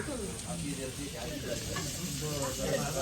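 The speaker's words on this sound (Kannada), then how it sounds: "ತವಾ ಫ್ರೈ." Fish frying on a tawa sizzles with a soft, steady hiss and crackle, faint and close for about three seconds.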